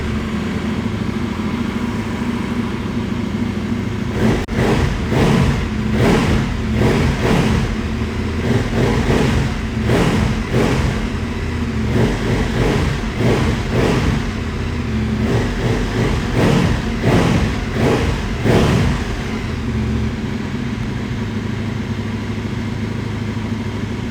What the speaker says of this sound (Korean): 머플러를 튜닝을 해놔서 그런지 배기 사운드는 파워풀한 편이다